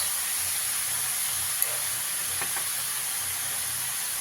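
Potato and brinjal pieces fry in a little oil in a pan, giving a steady, even sizzling hiss throughout with a couple of faint soft knocks partway through, close and fairly loud, without any voices.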